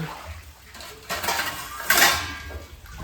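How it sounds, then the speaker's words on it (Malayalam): A metal cooking pot is picked up and handled in a kitchen, giving two clattering bursts of clanks and scrapes between quieter moments, close by and with no speech. "പാത്രം എടുത്തിട്ടുണ്ട്."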